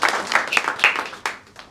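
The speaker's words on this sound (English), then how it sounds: "A brief round of applause for our esteemed panel." A short round of applause from an audience honoring an expert panel at a net zero discussion, several sharp claps standing out before it thins and fades within about two seconds.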